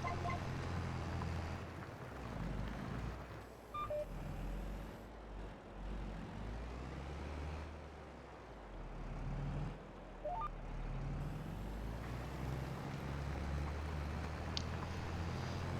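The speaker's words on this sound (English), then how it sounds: "I'm really liking this Massey Ferguson tractor." Massey Ferguson tractor engine in a farming video game, a steady low drone that runs for the whole stretch with a dense rumble, swelling slightly at times, with no voices over it.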